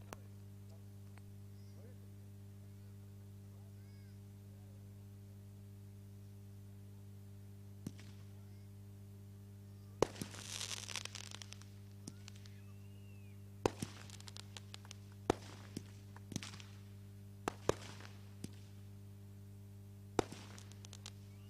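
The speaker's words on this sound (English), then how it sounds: "We can all clap at least with this firework." Fireworks at a cricket cup closing ceremony: scattered sharp bangs and crackling bursts from about ten seconds on, fairly distant, over a steady low electrical hum.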